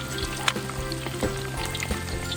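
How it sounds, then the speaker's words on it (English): Chicken wings deep frying in hot oil for honey BBQ wings, a steady close sizzle with scattered small pops and crackles, no voices. "So deep fry probably around 7 to 8 minutes."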